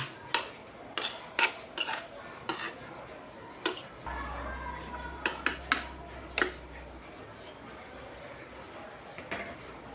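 A utensil stirs a tomato, olive oil and salt mixture for milkfish in a bowl, giving a string of separate, crisp clinks and taps, irregular and close, over a low background hum.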